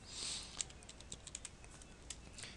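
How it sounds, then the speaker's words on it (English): A web address is typed on a computer keyboard, giving faint, quick key clicks in an irregular run after a brief hiss at the start. "So we're going to type avast.com,"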